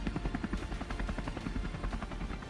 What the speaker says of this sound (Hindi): अब पुतिन का पराक्रमी अटैक हेलीकॉप्टर Mi-28 एक्शन में है